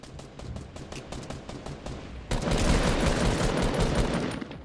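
Rapid video-game gunfire in an online shooter match, a steady stream of sharp shots that suddenly swells into a louder, denser barrage halfway through and keeps going to the end.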